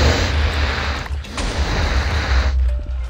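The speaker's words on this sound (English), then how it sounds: "There's another magic missile." Magic missile spells firing in the Minecraft Wizards server survival game, a dense run of loud, close booming blasts and bursts that keep up for about three seconds with little letup.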